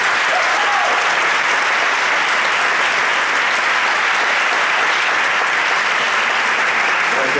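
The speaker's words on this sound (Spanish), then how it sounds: "Y un aplauso para la Consejería de Cultura," After a theatre play, the audience gives loud, sustained applause, a dense even wash of many hands clapping for several seconds without pause.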